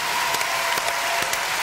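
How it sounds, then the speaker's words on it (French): Studio audience applause on a French TV variety show, a dense, steady wash of clapping with a few sharper claps standing out, brief and continuous throughout. "Et maintenant, on peut faire un applaudissement général"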